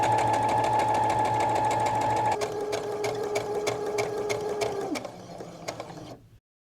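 Sewing machine edge stitching a collar on a collared top, a steady close mechanical whir with rapid needle ticking that changes pitch partway through, then slows and stops.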